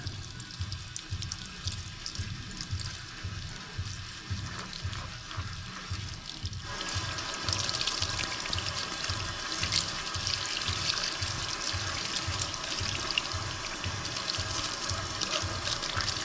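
Steady rush of hot water running into a sink, with a rhythmic low thumping beneath; the flow grows louder and fuller partway through.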